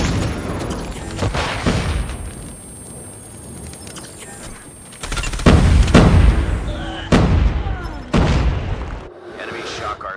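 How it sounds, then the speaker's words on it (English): Predator missile strikes in Call of Duty Mobile land as a series of heavy booming explosions, several sharp blasts spaced irregularly over continuous game noise and gunfire. "Friendly Predator missile inbound."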